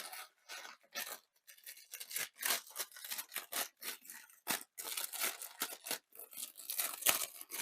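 Crinkly plastic packet rustling and tearing in irregular bursts as it is opened, close to the microphone, with brief pauses between handling sounds.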